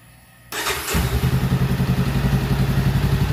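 A Honda Rebel 500 motorcycle engine starts up after an oil change, catching abruptly and settling into a loud, close, steady idle with an even pulsing rumble.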